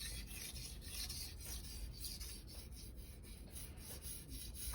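Knife blade rubbed back and forth on a Naniwa #1000/#3000 combination whetstone, a close, quiet, continuous gritty rasp with a faint repeated stroke pattern and no voices.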